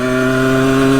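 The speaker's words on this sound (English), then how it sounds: "see, it's bogging out" Yamaha YZ85 two-stroke dirt bike engine bogging out, a loud, steady, buzzing drone held close to the microphone with strong harmonic tones and no talk.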